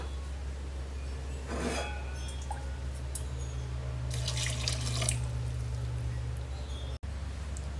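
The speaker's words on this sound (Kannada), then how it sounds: "ಅಳತೆಗೆ ಎಷ್ಟು ಬೇಕು ನೋಡಿ ನೀರನ್ನು ಸೇರಿಸ್ಕೊಳ್ಳಿ" Water trickles and splashes from a tap into a rice mixture for a few seconds over a low steady hum, with a brief drip-like patter near the start.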